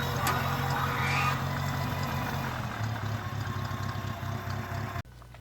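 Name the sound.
small farm tractor engine running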